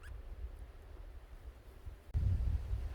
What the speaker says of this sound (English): I was listening through the dish and all I'm getting is wind